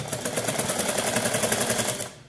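A sewing machine stitches a fabric strip in a steady, fast mechanical rattle of even needle strokes, close and continuous for about two seconds before stopping.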